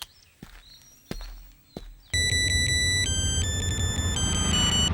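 A phone rings out as a call is placed to a father: a few footsteps and knocks give way to a loud, continuous electronic ringtone with shifting melodic beeps over background hiss.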